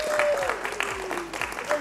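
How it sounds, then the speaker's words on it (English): A big round of applause for an employee of the quarter at a workplace ceremony: a small group's clapping, fairly close and steady, with a voice talking over it. "So everybody, a big round of applause."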